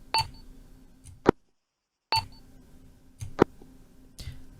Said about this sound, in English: Different end and start beeps.